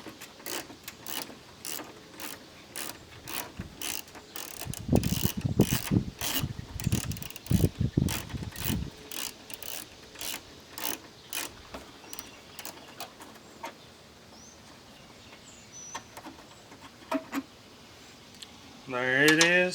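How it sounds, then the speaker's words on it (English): Ratchet wrench unscrewing an 8 mm bolt on a car engine during a cold air intake install, rapid close clicking in repeated bursts with pauses, with a quieter stretch near the end. "this bolt right here, is an 8 mil. So let's unscrew it."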